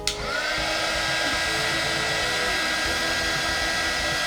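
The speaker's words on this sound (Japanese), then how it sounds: "伸ばしたらエンボスヒーターで" An embossing heat tool blows a steady, loud, continuous whir as it dries acrylic medium for a water-effect diorama, running alone throughout.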